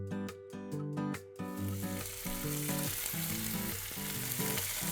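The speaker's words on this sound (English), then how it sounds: "go ahead and cook up our beef tenderloin here. I'm gonna get some high heat going on this pan." Beef tenderloin sears in a very hot pan with a little cooking oil, a steady loud sizzle and crackle running throughout, opening with a few rhythmic clicks before the frying settles into a dense continuous hiss with no talk.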